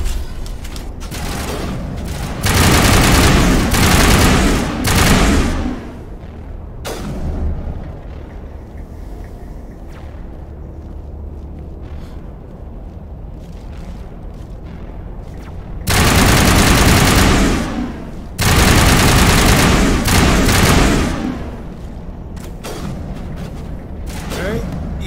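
Heavy automatic gunfire from the video game Mass Effect, loud sustained bursts of shooting that swell and drop, with quieter stretches between volleys and a voice talking at moments.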